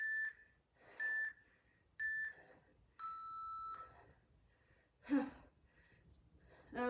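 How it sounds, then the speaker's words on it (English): Several electronic beeps sound in a spaced series, the first ones short and regular and then one long sustained tone, with heavy breathing and gasps in between. "You're gonna hear another timer."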